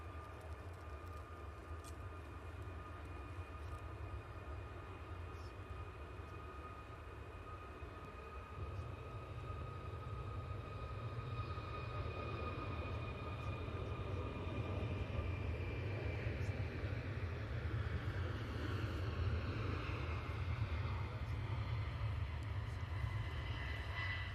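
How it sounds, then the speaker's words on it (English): A TUI Boeing 737 MAX 8 jet departs Manchester with a rising engine roar swelling from a distant whine into a loud, broad rumble that builds steadily and sustains to the end. "TUI 737 MAX 8 now departing."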